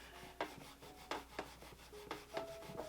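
A cloth rubbing polish off Vahtia Austerity leather boots, giving quiet, repeated scrubbing strokes with a few sharper swipes spaced irregularly, close by with no talking.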